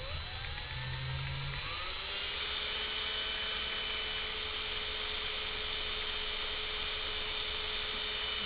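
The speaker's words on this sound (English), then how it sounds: "So I got the drill in there, and the drill's on reverse" A steady high-pitched power drill whine, running in reverse, continuous at constant speed, close and sustained, with no voices.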